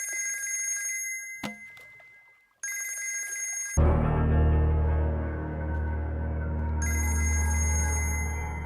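A telephone rings with bright, repeating electronic bursts broken by short gaps, then gives way to a louder, lower drone, and the ringing comes back near the end.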